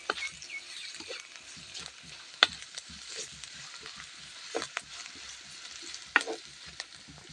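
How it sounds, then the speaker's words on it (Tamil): Chopped onions sautéing in a pan until golden, a soft steady sizzle broken by scraping stirs and a few sharp clinks of the spatula against the pan. "வெங்காயத்தை நல்லா பொன்னரமாக வணக்கிக்கணும்."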